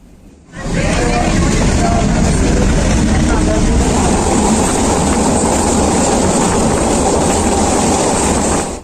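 A train on the Chalala–Dhari–Visavadar route rumbles along loudly and continuously, a dense roar of wheels and carriage noise starting abruptly and holding steady throughout, with voices faintly mixed in.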